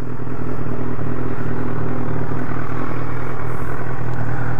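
A BMW S1000R motorcycle idles close by, its engine holding a steady, even low rumble with a light mechanical clatter and no revving throughout.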